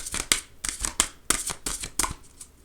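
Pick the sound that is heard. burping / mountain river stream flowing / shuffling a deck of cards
shuffling a deck of cards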